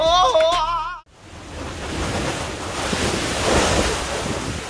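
Ocean waves crash and wash in a loud continuous roar mixed with gusting wind noise, preceded by a brief high warbling sound at the very start.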